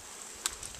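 Honey bees buzz inside a hive box at a backyard apiary, a brief faint hum with a couple of sharper close passes.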